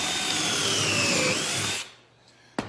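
A drill boring a pocket hole through wood with a Kreg Jig Mini, a steady close whine that winds down and stops, followed by a single sharp knock.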